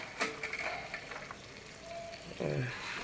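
Green peas frying in a pan while being stirred, an even sizzle broken by scraping and clinking strokes of the spoon, quiet and close, with no talk.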